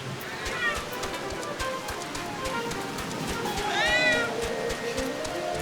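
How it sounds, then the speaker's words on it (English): A loud cat meows repeatedly for attention, two clear drawn-out calls rising over a steady background of game sounds with rhythmic clopping footsteps. "I'm not sure what exactly the cat wants."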